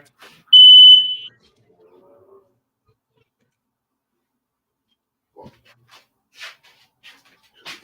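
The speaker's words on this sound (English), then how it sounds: "this fucking smoke detector" A single loud, shrill electronic beep from a smoke detector, about a second long, followed by quiet room noise and faint shuffling.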